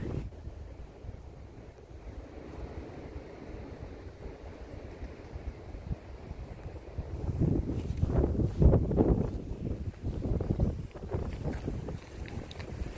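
Wind buffets the microphone in rough, rumbling gusts, quieter at first and then growing louder and more turbulent for the second half.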